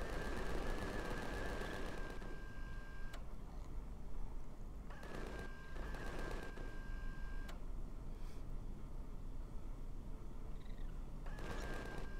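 Repeated bursts of rapid gunfire from a weapon in the sci-fi survival game Empyrion Galactic Survival, several short volleys separated by pauses, moderately loud, with no talking.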